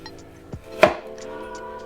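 A chef's knife cuts into an apple while carving a swan shape, giving one sharp close chop followed by faint scraping, with a quiet background hum.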